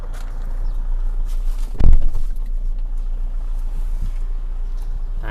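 A 2009 Toyota Vigo pickup with a 2500cc engine on a test drive gives off a steady low engine and road rumble from inside, with a brief heavier thump partway through and no talking.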